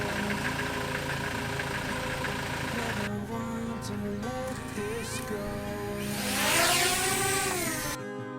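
A camper van's engine runs steadily while driving through the Doolin Valley in Ireland, a continuous mid-pitched drone with vibration and some rattling, swelling briefly louder near the end before cutting off.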